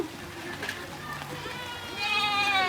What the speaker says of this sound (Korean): 진짜 음메하고 울어.